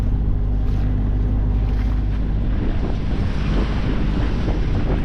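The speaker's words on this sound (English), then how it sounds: "There's swell building now. Wind's getting up 16 knots." Strong wind and building swell at sea aboard a sailing boat in roughly 16 knots of breeze, with a constant loud roar of gusts buffeting the microphone and waves washing against the hull, and no voices.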